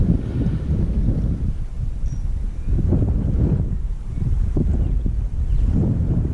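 Strong gusty wind buffets the microphone outdoors on open ground, a steady loud low roar that surges and eases in waves throughout, with no voices over it.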